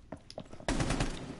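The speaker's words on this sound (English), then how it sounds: "is just shooting every walker" Rapid automatic gunfire from the Rainbow Six Siege video game, a few faint shots followed by a sudden loud burst of sustained fire.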